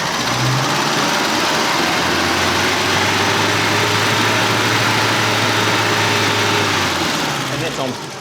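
A car engine with a carburettor fuel problem drones loudly and steadily at raised revs for several seconds, then drops away, with a voice talking over it.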